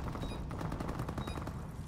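Automatic gunfire in the online shooter Call of Duty: Advanced Warfare, during 4v4 ranked play, comes as rapid bursts of shots that run through the whole moment at moderate loudness.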